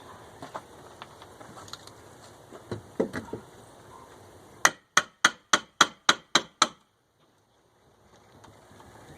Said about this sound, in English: see if I can use my pry bar and pull that piece off